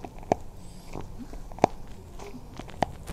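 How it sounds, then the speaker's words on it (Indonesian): An old, previously sprained foot cracks during a massage, giving three sharp, close pops spaced about a second apart over a quiet background. "Ini bunyi kaki ya, yang pernah keseleo di masa lalu."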